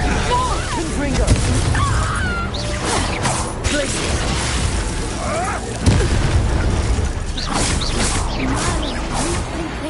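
Combat in Hogwarts Legacy with a Confringo fire spell: whooshing spell casts, booming explosions and crashing impacts in a busy, loud mix, with game voices shouting over it.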